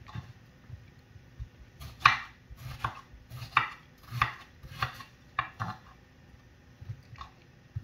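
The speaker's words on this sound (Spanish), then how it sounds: "Vamos a terminar de picar bien el tomate." A knife chops tomato on a board in about a dozen uneven, moist thuds, close and fairly quiet, with short pauses between cuts and no talking.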